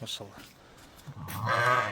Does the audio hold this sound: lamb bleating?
yes